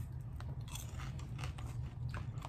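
Sweet and salty popcorn is being chewed close to the microphone in a steady run of soft crunches and bites. The sound is quiet and comes with no speech.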